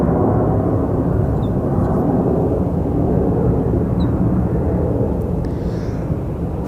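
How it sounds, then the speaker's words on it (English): American Airlines Boeing 737 at Phoenix Sky Harbor Airport, a loud steady low jet engine roar, close and unbroken, with no talking. "over here we do actually have an American Airlines 737"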